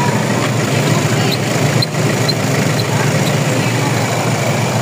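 Hyundai Grand Starex with a D4CB diesel engine and a faulty turbo assembly idling, a loud steady close-up rumble with a brief dip midway and faint voices in the background.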